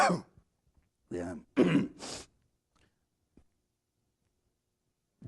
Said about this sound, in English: The doctors said the throat cough would go away in a few weeks.